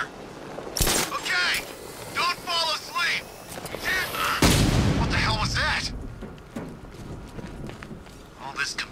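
Sniper rifle shots crack out in Batman Arkham Knight, with two sharp loud blasts a few seconds apart and the second followed by a rumbling tail, over and between excited speech from players.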